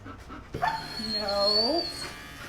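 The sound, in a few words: dog panting and whimpering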